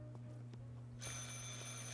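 A telephone rings in a spooky video game: steady, bright, layered ringing tones begin halfway through and continue over a constant low electronic hum.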